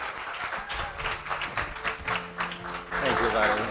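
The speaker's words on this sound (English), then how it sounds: "Please give a round of applause to our friend" Audience applause greets a guest speaker at a talk event, mixed with voices talking over it and swelling louder toward the end.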